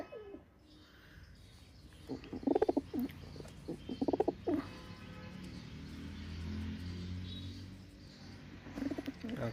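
Cheena pigeons perched nearby give soft, low cooing calls in two short clusters, with another brief coo at the end, over a faint background hum.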